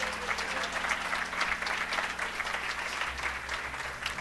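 A church congregation claps continuously, a full, even wash of applause with no pauses throughout.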